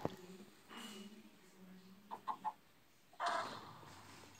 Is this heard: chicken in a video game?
yes